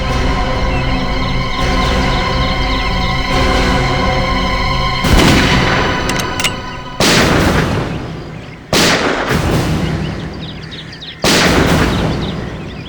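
Gunshots fired by criminals at a crime scene, several loud, close booming blasts with long echoing tails, spaced a few seconds apart over a steady background roar.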